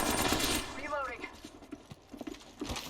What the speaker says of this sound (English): It's just me getting shot.